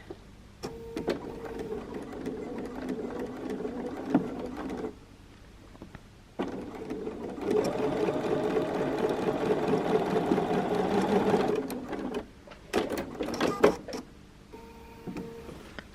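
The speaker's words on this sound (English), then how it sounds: "Now I can lay it flat and just sew these together." A sewing machine stitches quilt binding on a pencil quilt in close, steady bursts, with a long continuous run in the middle and shorter stretches of stitching before and after, separated by brief pauses.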